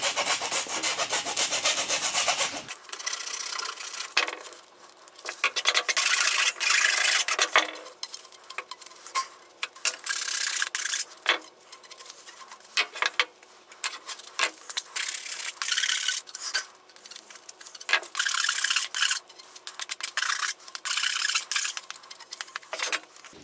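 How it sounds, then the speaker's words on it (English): A file rasps across the cut ends of a plastic waste pipe in repeated irregular strokes, close and fairly loud, with short pauses between bursts of scraping. "we need to clean them up. So we're just going to remove the burrs now using a file."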